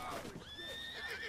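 A horse in Red Dead Redemption 2 lets out a short, fairly close whinny, a rising then wavering neigh with a faint hoof clop nearby.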